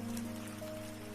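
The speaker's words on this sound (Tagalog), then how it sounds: "Iyan na ang tunog ng malakas na buhos." Heavy rain drums on a tin roof as a steady, dense patter with a constant hiss, close and unbroken, with no voices.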